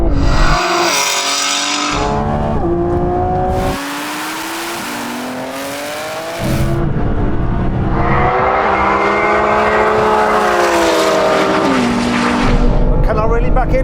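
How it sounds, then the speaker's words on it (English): Roaring engines of a Lamborghini Revuelto, a 1000 hp BMW M3 Touring and a 1000 hp Audi R8 in a third-gear roll race from about 50, loud rising revs through gear shifts with a brief drop mid-run, heard close and intense. "so once again, roll race. We're going to do it third gear from about 50."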